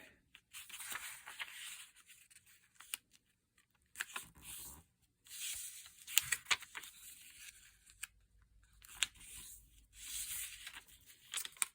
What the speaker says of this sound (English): I'm going to fold each corner into the center